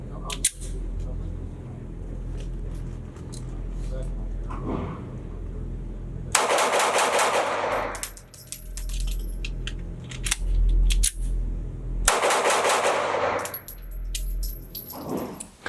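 A Kimber Micro 9 pistol fires at an outdoor range from about 5 yards. Small metallic clicks and handling come first, then two loud bursts of rapid shots separated by a pause for a quick magazine change.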